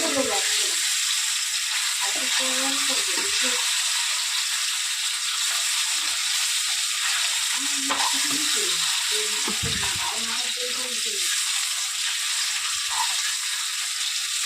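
Food frying in a little oil in a pan, a steady broadband sizzle running throughout with soft stirring scrapes, while someone talks intermittently over it.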